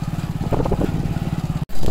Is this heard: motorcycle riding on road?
yes